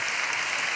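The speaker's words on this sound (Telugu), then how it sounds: "పెద్దగా చప్పట్లు కొడితే యేసయ్యకు స్తోత్రాలు చెప్దాం" A church congregation claps loudly and steadily in a dense, continuous wash of applause that fills the room without pause.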